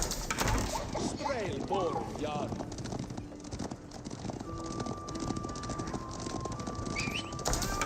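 Horse hooves clip-clop in Age of Empires 4 battle audio, a quick patter of light hoof clicks mixed with clanking game sounds while a commentator talks over them.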